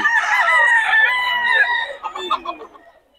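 Roosters crow loudly and close by at a poultry market in Bocaue, one long crow trailing into clucks and softer calls from other fowl.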